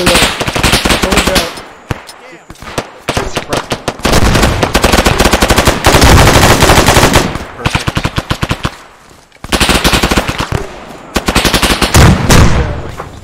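Automatic rifle fire in a military video game, loud sustained bursts with brief pauses between strings of rapid shots, close and dominating throughout.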